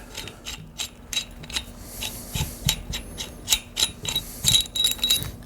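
A 6mm hex key turns out loose bolts from a performance driveshaft carrier, giving close, irregular metallic clicks and ratcheting scrapes in quick bursts, with no talking.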